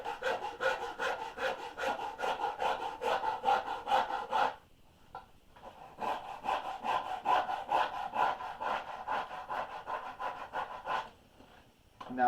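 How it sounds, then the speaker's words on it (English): Farrier's rasp rubbing over a carved wooden boat half hull model in steady back-and-forth strokes, close and loud, with a brief pause midway and another near the end. "it's nice to have the surface area of the farrier's rasp"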